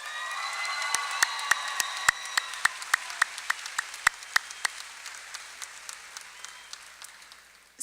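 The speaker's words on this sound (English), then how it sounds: "Let's give them a round of applause." At the Willamette High School graduation ceremony in 2017, the audience claps for the school band. The applause is sparse and scattered, with separate claps that start brisk and thin out, plus a little crowd murmur early on.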